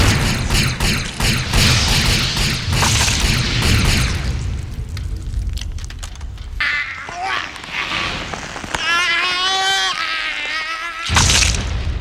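A loud, dense movie explosion blast in space with rumbling debris, followed by softer rumbles, whooshes and tonal effects, ending with another sharp burst.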